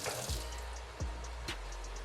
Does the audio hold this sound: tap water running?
yes